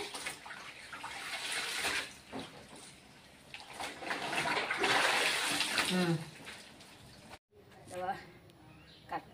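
Pieces of cut cloth being washed under running tap water, a continuous close splash and gush of water with handling noises, broken by a brief cut near the end, with a voice talking over it.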